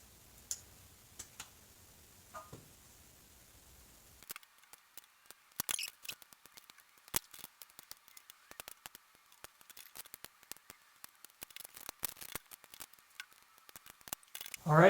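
Scissors snip along the edges of paper geodesic sphere pieces, a quiet run of short, crisp cuts and clicks spaced irregularly, close by, after a few seconds of near silence.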